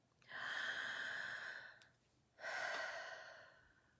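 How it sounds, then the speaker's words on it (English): Two long, deep breaths drawn and released through the mouth, each a broad airy rush swelling and fading, close and fairly soft with a pause between them. "taking 3 deep breaths in and out from the mouth"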